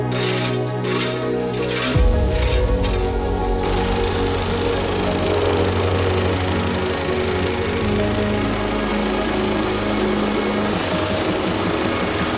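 A loud plate compactor pounds gravel for an inground wooden pool's foundation, its motor starting up and then hammering in a steady, dense rumble for about ten seconds, with no voices.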